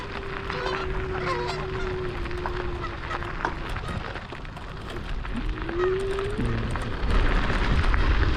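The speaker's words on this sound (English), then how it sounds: "Look at these geese trying to fight." Geese honk repeatedly and squabble nearby, their calls rising over a rough, noisy outdoor background.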